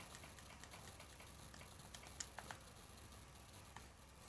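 Steady rain patter in a survival video game, a soft continuous wash of drops with a few brief clicks standing out, moderately faint and with no talk over it.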